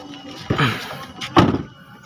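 Rear door of a Mitsubishi Xpander Sport swinging shut, two solid thunks about a second apart, close and moderately loud, with faint vehicle-interior ambience around them.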